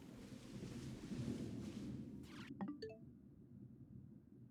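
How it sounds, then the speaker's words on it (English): Distant thunder from an approaching storm rumbles low and broad for about two seconds, fading out before a few faint clinks and light taps. "that thunder was so loud"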